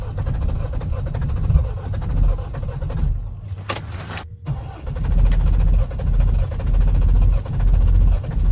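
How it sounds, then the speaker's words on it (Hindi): A Mahindra Thar engine being cranked on its self-starter at -30°C in the Spiti winter: a loud, continuous low grinding churn that pauses briefly midway, then resumes with heavier rumbling, heard close with no talking. "बड़ी मुश्किल से सेल्फ लिया है। अगर अब स्टार्ट नहीं हुई ना तो समझ लो हम गए काम से।"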